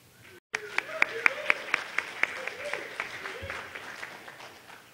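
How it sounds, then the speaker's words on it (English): Audience applause welcoming a speaker onto the stage at a security conference talk, a steady spread of clapping with sharper claps standing out, fairly distant in a hall and tapering off toward the end. "So please give him a big round of applause and welcome him to the stage."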